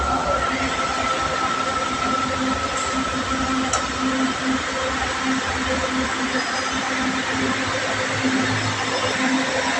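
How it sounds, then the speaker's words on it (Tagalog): An LRT train arrives at a station near Cubao, a continuous rumbling rail roar with faint squeals and clanks, steady and fairly close throughout. "Nandiyan na yung LRT train"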